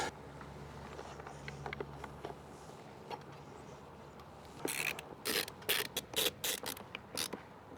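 Screws being driven in to mount an outdoor security camera: after a quiet stretch with faint clicks, a series of loud, close, rasping ratchet-like bursts comes in quick succession.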